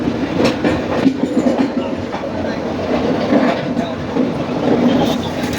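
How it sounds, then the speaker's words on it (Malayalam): A passenger express train runs along the tracks in rural Madhya Pradesh, a steady rumbling roar with rhythmic wheel clatter, close and continuous throughout. "നമ്മൾ പോകുന്നതിന് സമാന്തരമായിട്ട് വേറൊരു ട്രെയിനും കൂടെ പോകുന്നുണ്ട്."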